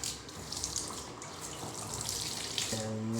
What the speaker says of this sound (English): Tub full on, heat full hot.